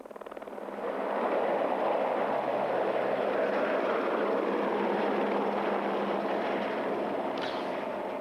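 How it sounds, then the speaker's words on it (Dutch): Helicopter taking off about 100 meters from the Alpe d'Huez stage finish of the Tour de France, a steady loud rotor and engine roar that holds throughout without talk. "Zo'n 100 meter van de finish vertrekt de helikopter."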